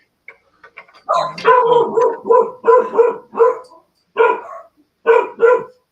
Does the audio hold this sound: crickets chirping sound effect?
no